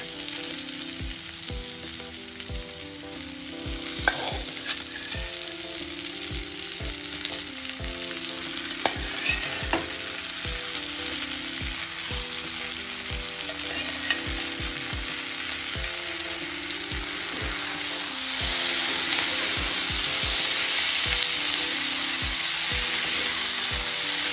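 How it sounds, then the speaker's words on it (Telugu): Boiled bitter gourd hits a pan of onions and fries with a steady loud sizzle, with stirring scrapes now and then and the sound swelling slightly toward the end, no voices. "ఇప్పుడు ఉడికిచ్చి పెట్టుకున్న కాకరకాయలు వేసేసుకోవాలి."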